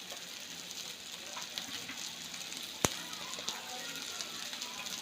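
Paneer butter masala ingredients, with onions and cashews among them, sauté in a hot pan: a steady close sizzle runs throughout, broken by one sharp clink of a utensil against the pan.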